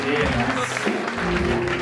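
Applause at a Basler Fasnacht gathering, a steady crowd clapping close by while someone talks loudly over it.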